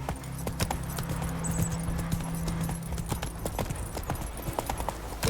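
Roach, a horse in The Witcher 3, galloping with a rapid, continuous clip-clop of hooves, close and prominent throughout.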